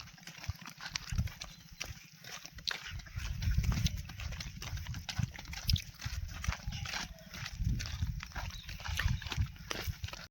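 Horse hooves clip-clop on the ground during first-day rope training, irregular thudding steps close by and fairly quiet, with faint background noise and little talk.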